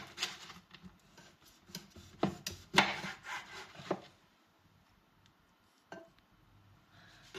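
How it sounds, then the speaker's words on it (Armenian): A knife chops a lemon finely on a board, with sharp, irregular cuts bunched close together early on, then thinning to a few isolated taps near the end, close and clear with no talking. "լիմոնը մի քիչ մանր կտրատեմ, որպեսզի հեշտ լինի մանրացնելը"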